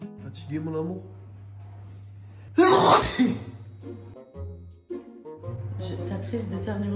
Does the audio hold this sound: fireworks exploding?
no